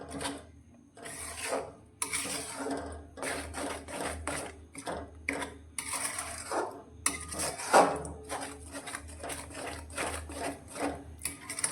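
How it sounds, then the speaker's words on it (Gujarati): Grated coconut and sugar being stirred in hot ghee in a pan, heard as repeated scraping strokes of a spoon against the pan, fairly close and in an irregular back-and-forth rhythm. "હવે સારી રીતે આપણે તેને મિક્સ કરીશું"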